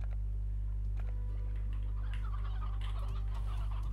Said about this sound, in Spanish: vamos a guardar las gallinas